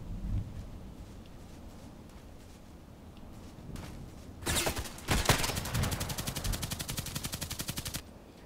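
Rifle fire in a sniper video game with an M40A6 and EBR marksman rifle, opening with a sharp shot, then a second crack followed by a rapid, evenly spaced string of loud reports that runs for about three seconds, over a low ambient rumble.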